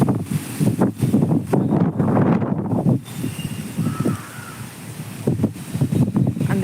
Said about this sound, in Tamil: செம்மையாக காற்று பாருங்கள்